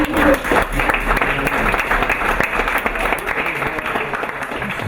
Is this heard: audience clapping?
yes